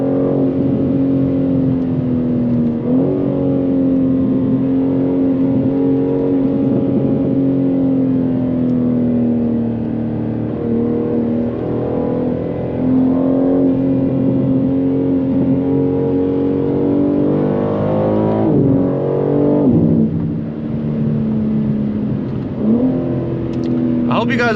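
A 700-horsepower BMW M3 G80 engine hums steadily from the cabin on a driver's-view run, its drone rising and falling with a few swells of revving and brief gear-change dips.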